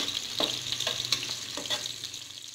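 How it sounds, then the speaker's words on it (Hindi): Onions sizzle steadily in hot ghee in a pan on the way to light browning for moong dal khichdi, with a close, continuous crackle and a few louder stirring scrapes. "इसमें अब प्याज डालेंगे, इसको लाइट ब्राउन कर लेंगे, हल्का ब्राउन कर लेंगे"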